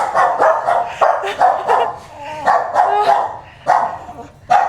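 Small purebred dogs such as Yorkies, Maltese and French bulldogs yap over and over in a kennel, close and loud, the sharp barks coming in quick uneven bursts.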